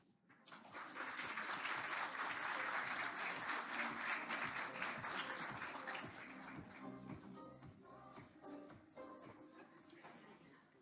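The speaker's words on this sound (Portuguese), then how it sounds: "Vamos recebê-lo então com uma forte salva de palmas, Celso Yetka." Audience applause welcoming a speaker at a business finance talk, a full round of clapping that swells, holds, then thins into scattered claps as it fades.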